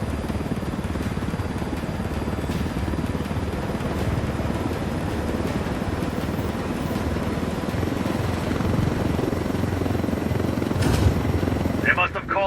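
Helicopter in the video game Tom Clancy's Ghost Recon Wildlands, a steady loud rotor and engine drone that runs throughout with a faint rise near the end, heard under in-game voices.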